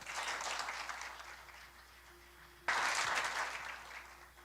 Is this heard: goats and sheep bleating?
no